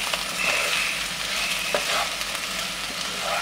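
Soya chunks frying in a pan with fennel powder, a continuous dense sizzle close up, with faint stirring scrapes now and then.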